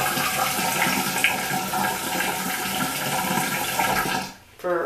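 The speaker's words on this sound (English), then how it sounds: "Splash a little water on my face" Water running and splashing at a bathroom sink while someone washes their face, a steady close rush that stops abruptly near the end and is followed by a brief voice.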